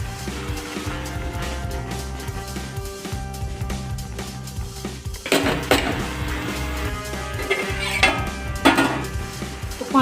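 Ridge gourd and tomato sabzi being fried in a pan, with a steady low sizzle and repeated clattering scrapes of a spoon against the metal, growing busier and louder toward the end.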